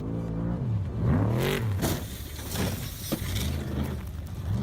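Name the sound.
car speeding along a crowded road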